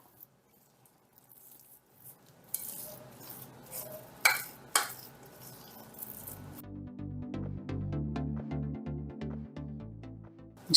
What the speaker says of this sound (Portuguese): Misturo um pouco com a colher e depois eu vou com a mão mesmo, que fica mais misturadinho